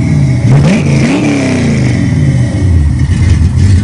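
Loud revving from a modded 5.0 V8 in a 1973 Capri, the lumpy cam giving a choppy idle between rising and falling throttle sweeps, close and continuous.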